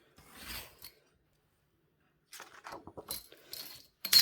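A knife slices through printed paper being cut out at home, with a short rasping scrape, a pause, then several quick scratchy cutting strokes ending in a louder crisp snip.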